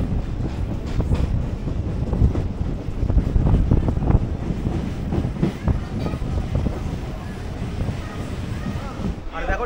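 A Howrah–Digha local train pulls out of Tamluk station with a steady, heavy rumble of wheels and carriages, buffeted by loud wind noise throughout.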